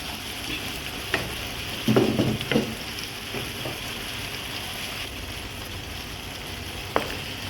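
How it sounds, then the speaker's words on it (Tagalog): Beef with carrot, onion and green pepper sizzling in a pan with a steady soft frying hiss, broken by a few brief louder stirring scrapes and clinks. "Sunod natin yung lagay natin yung ating onion at saka green pepper."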